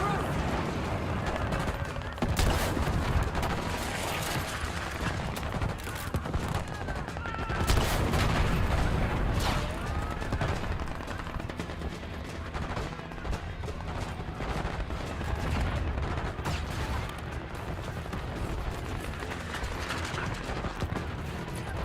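Dense, continuous gunfire and explosions in a war video game battle against Iraqi forces, rattling bursts and heavy booms layered over each other for the full stretch, loud and chaotic with no pauses.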